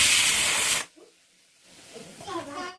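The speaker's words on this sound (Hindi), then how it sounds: "मैं कुकर को बंद कर दूँगी और 1 सीटी उसमें लगने दूँगी मैं" A pressure cooker cooking dal lets off steam through its whistle with a loud, steady, broadband hiss that lasts under a second and then cuts off. Afterward, a voice speaks softly.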